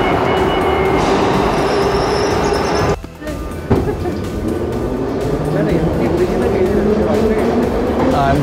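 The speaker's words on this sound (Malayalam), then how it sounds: "ഭയങ്കര ശബ്ദമാണ് ട്രെയിനിൻ്റെ." A Moscow Metro train runs through the tunnel with a loud, continuous roar and clatter of wheels, broken by a brief dip before the rumble builds again.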